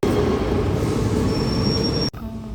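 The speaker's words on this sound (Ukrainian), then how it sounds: "Ну і походу мій потяг приїхав." A metro train pulls into an underground station, with a loud rumbling roar and a thin wheel squeal rising over it, then cutting abruptly to a quieter hum as it comes to a stop.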